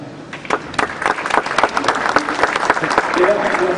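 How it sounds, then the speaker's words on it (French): Audience applause at a basketball coaching talk on building a team offense: a steady wash of many hands clapping, sustained and fairly close, with some voices mixed in and swelling slightly toward the end. "Donc je crois que ça mérite de votre part déjà des applaudissements."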